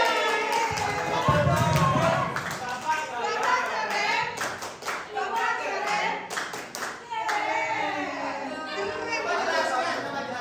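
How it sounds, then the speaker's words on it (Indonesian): A group of people clap their hands in a dense, sustained round of applause, close by and loud, mixed with lively chatter and children's voices throughout. "Tepuk tangan."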